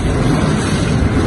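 Loud, unbroken roaring of Typhoon Kristine's wind buffeting outside a home in light rain, a thick low rush that stays steady and strong with no voices over it.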